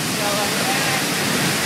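Emperor Falls on Mount Robson roars as a steady, dense wash of rushing water, loud and unbroken throughout the short moment.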